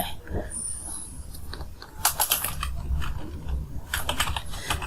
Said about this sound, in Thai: ทำการพิมพ์ไป